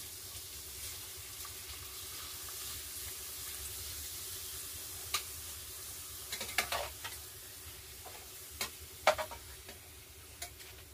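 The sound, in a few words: frying papad (poppadom) in oil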